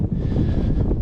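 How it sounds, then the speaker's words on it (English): Strong wind roars and buffets the microphone in a constant low rumble on a hilltop in England's Lake District, with no other sounds. "It's very windy up here."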